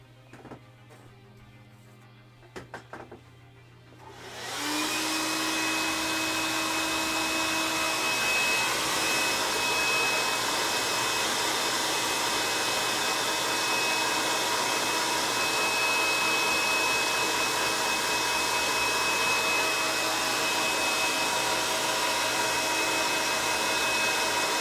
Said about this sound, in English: I'll just give this a quick blast with a hairdryer just to make sure it's dry.